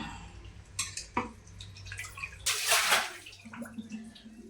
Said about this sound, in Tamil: மட்டனை கழுவி குக்கரில் போட்டுக்கலாம்